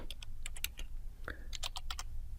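Quick bursts of clicky keystrokes on a computer keyboard tap out a command in a quiet room.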